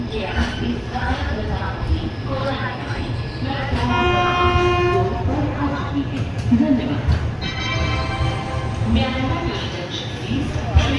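Dakshin Express 12721 passenger train running from Hyderabad toward Hazrat Nizamuddin, heard from on board: constant rumble and rattle with two sustained horn blasts and voices talking in the carriage.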